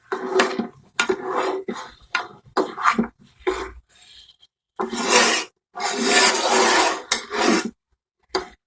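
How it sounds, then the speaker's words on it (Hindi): A spoon scrapes and rubs steadily around a pan of thick Multani sabooni halwa, the stirring close and continuous in bursts with short pauses, with no one talking. "मुसलसल इसमें चमचा चलाते रहेंगे"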